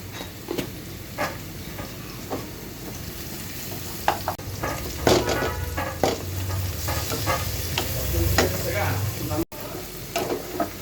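Pieces of fish sizzle in hot oil in a pan, a continuous close frying hiss broken by spatter pops and stirring scrapes, with a voice faintly under it at times.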